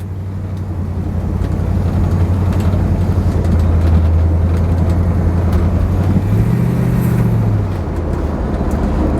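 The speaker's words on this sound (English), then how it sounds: "The exhaust is quiet." A 1967 Pontiac GTO convertible with a 400 four-barrel V8, dual exhaust and Turbo 400 transmission cruises along a winding road, its low steady engine drone rising briefly in pitch near the end under constant road and wind noise.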